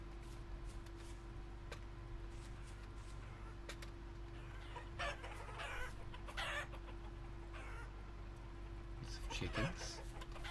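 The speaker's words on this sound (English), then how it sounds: "Chickens." Chickens cluck in the Vintage Story video game, giving scattered short clucks over a steady low hum and faint background noise, with a louder burst near the end.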